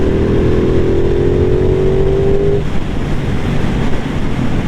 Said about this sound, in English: pin the throttle open, and you get a really nice induction noise